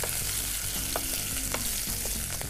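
Chopped green chillies frying in hot oil, a dense continuous sizzle with several short scraping stirs spaced through it, close by and without speech.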